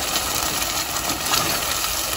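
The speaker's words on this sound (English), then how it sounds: "I like the sizzling sound." Vodka sizzles in a hot pan while penne rigate with tomato and vodka cream sauce is made, a loud, steady crackling hiss that runs continuously and close up.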